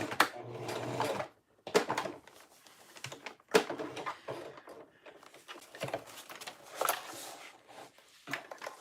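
A sewing machine stitches a clear plastic tote with a gusset, running in short bursts with brief pauses between them. The whirring is moderately loud and close.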